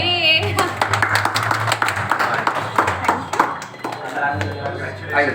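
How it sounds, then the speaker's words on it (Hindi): People clap in scattered, uneven bursts at the opening of a modern kitchen showroom in Darbhanga, loud and close, with voices talking between and over the claps. "ताली बजाइए।"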